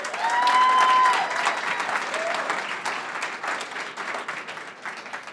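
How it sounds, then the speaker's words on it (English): Steady applause from an audience at a monthly startup entrepreneurs' gathering, a continuous wash of clapping that swells early and then holds evenly, with faint voices underneath. "I would love it if you guys could do a round of applause for him on the live stream"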